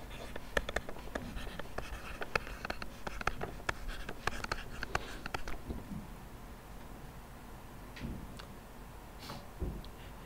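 A pen or marker writes out a physics solution on a board, a string of quick scratchy ticks and strokes packed tightly for the first half, then fading to a few sparse taps.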